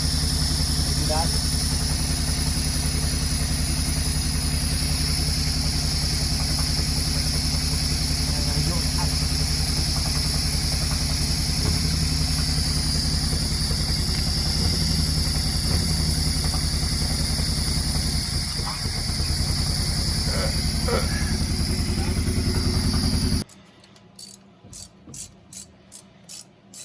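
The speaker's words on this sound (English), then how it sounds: "So it seems like that forward cylinder is not firing." A barn-find 1940 Mercedes engine runs with one forward cylinder misfiring, a steady loud mechanical idle with an uneven hit-and-miss beat, cutting off near the end to quieter clicks.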